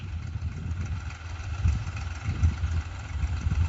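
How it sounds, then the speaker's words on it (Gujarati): A low, rumbling tractor engine chugs steadily nearby on a farm, idling with slight pulses in its throb, no voices over it. "તો જો ટ્રેક્ટર આવે છે"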